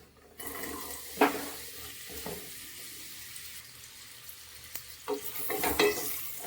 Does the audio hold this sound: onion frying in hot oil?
yes